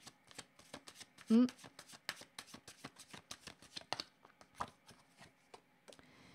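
Oracle cards are shuffled by hand in a steady run of crisp, rapid riffling clicks and slaps, close up and continuing for several seconds.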